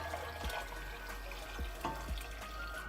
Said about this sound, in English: I'm going to add a little bit of water to this jug.